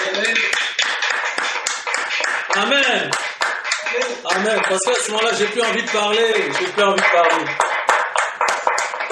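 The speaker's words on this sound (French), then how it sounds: "Applaudissons le Seigneur" A church congregation claps in praise during worship, dense rhythmic clapping running throughout while someone speaks over it and others call out.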